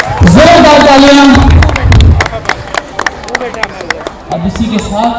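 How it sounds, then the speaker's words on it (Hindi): At a stage event, an audience breaks into scattered clapping that runs for several seconds, starting just after a person speaks, with sharp individual claps over a low crowd murmur. "जोरदार तालियां।"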